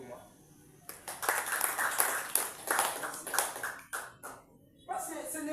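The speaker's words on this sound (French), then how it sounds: "Vous pouvez applaudir pour moi." Scattered audience clapping at an anniversary celebration in Kananga, arriving in uneven bursts of hand claps with short gaps, with talk in the room.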